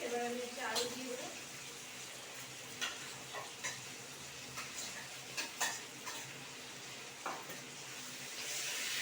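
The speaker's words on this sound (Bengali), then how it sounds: "এবার আমি হচ্ছে আলু দিয়ে দেবো।" Potatoes frying in a hot pan, a close, steady sizzle with repeated scraping and clinking of a spatula stirring them, and a voice briefly heard near the start.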